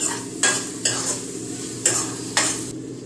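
Masala sizzles in a pan over a high flame while a spoon stirs it, giving four sharp scraping strokes at a steady pace over a constant frying hiss, with no voices.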